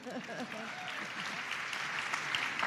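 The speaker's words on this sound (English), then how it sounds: "I think we can arrange that, don't you, by way of applause?" A lecture-hall audience at a 2010 lecture series breaks into applause. Brief talking at the start gives way to clapping that swells and stays full and steady to the end.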